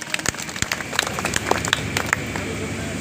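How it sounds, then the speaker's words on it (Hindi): Outdoor crowd welcoming the national president of the Jannayak Janta Party claps in a scattered, uneven burst, sharp individual claps standing out over a noisy background. "जोरदार तालियों से इनका स्वागत किया जाए।"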